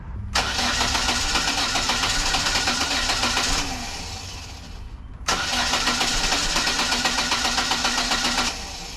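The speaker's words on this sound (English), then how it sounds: "I'm gonna prime it again, see if I hear it, and then hopefully it starts." Chevrolet Sonic engine cranking at length in two separate bursts, a loud, steady, rapid starter whir close by, with a pause between attempts and no voices.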